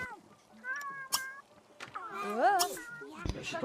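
Cats meow several times in The Sims 3, with rising and falling cries under a person talking nearby.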